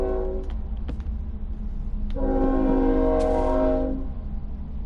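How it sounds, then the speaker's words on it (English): Minecraft train on the PS4 edition passing by, a sustained rumbling roll with a brief horn-like tonal blast in the middle, fairly loud and steady throughout with no talking. "Go away, train."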